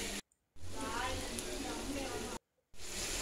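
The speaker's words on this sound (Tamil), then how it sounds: "லோ ஃப்ளேமில் வச்சு அந்த எண்ணெயில் வதக்கி விடுங்க" Soya masala sautéing in oil over a low flame for a Chettinad-style dish, a steady close sizzle and crackle that runs continuously between two brief silent gaps.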